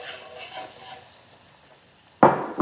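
All-purpose flour frying in a pan, a soft sizzle and stirring that fades, then a sudden loud scrape or clatter near the end.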